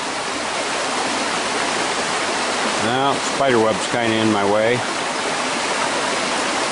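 A Smoky Mountains waterfall rushes in a steady, unbroken roar from start to finish, and someone speaks briefly over it midway.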